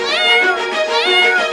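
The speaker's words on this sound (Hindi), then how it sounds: "जॉनी टॉनी के घर में बिल्ली की आवाज आ रही है" A cat meows loudly and close by inside a house, two drawn-out rising and falling cries in quick succession, alone without talk.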